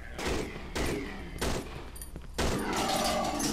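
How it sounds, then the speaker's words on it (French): Enemy gunfire in the horror video game Cry of Fear, heard as several loud, sharp bursts of shots spaced about half a second apart, with a ringing tail after the final blast. "Attention, il va tirer."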